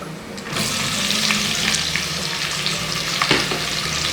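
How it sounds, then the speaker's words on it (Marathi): Sliced onion frying in hot oil while cooking paneer masala, a steady close sizzle with occasional stirring scrapes, no voices. "हा जो उभ्या स्लाईसमध्ये कांदा कापला आहे ना आपण हा कांदा"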